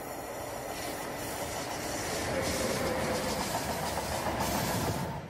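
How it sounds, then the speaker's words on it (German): An ÖBB class 1216 Taurus 3 electric locomotive passes as a steady, loud rushing rumble with hiss that swells slightly and holds, with no voices. "Als Taurus 3 geht die ÖBB-Reihe 1216 ins Rennen."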